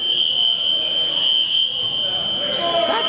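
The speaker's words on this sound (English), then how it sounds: "The fire alarms going off doesn't happen a whole lot" A fire alarm sounds at a fighters' training gym, a steady, piercing high electronic tone that runs unbroken throughout, loud and continuous, with faint room noise and some voices beneath it.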